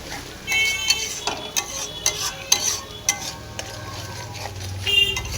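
Kashmiri chilli powder being stirred into a fish curry masala for katla kalia, with close scraping strokes of a spoon against the pan and scattered clinks over a low, steady sizzle.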